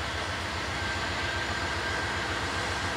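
Steady rumbling of a train rolling past close by, a continuous broadband roar with faint rhythmic clatter underneath and a thin high whine.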